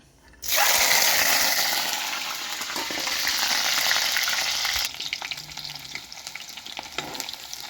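Fish frying in a pan over a wood-fired stove while making fish pickle: a loud, steady sizzle bursts in abruptly and carries on, easing a little partway through, with no talking.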